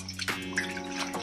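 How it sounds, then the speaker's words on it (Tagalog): Water splashes and drips as cleaned mushrooms are soaked in a basin, with running, gurgling water and a few sharp clinks close by, fairly loud throughout. "ibabad lang natin muna siya sa tubig"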